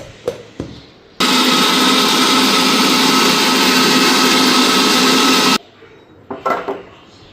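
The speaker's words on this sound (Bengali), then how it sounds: "টমেটো কাঁচা লঙ্কা পেঁয়াজ কুচি আর আদা রসুন তো এখন এটা পেস্ট করে নিই" A kitchen blender grinds tomato, green chili, chopped onion, ginger and garlic into a paste, a loud steady whirring run of about four seconds, with brief clatter before and after.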